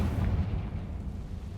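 A Confringo blasting spell explodes in the Hogwarts Legacy game as a brief, heavy, low rumbling blast that stays fairly steady over its short length, with no voices.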